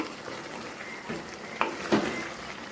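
Beef braising in a pot, a soft steady sizzle with a few clinks and scrapes of a utensil stirring the meat, close and fairly quiet.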